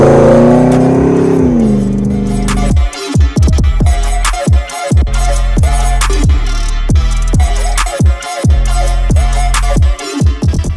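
A Land Rover Defender 110 crew cab's LT4 V8 with 8-speed automatic revs hard through quick repeated bursts, rising and dropping in pitch with sharp gear changes, loud and close.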